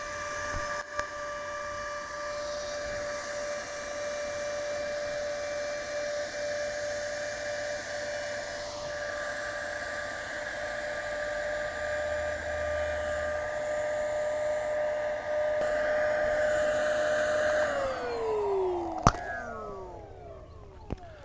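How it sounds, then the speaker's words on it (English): An electric air pump inflating an Intex Excursion 5 inflatable boat gives a steady, loud, close whine that holds for about eighteen seconds. The pitch then drops as it is switched off, and a couple of sharp clicks follow. "I did have to cut off the electric pump short."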